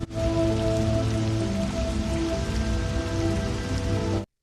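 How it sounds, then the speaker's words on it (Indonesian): Heavy, steady downpour drumming on a surface at a mountain summit, loud and continuous for the whole stretch with no voices, ending abruptly. "Baru saja masuk ke area puncak itu, Shannon disambut dengan hujan yang sangat deras."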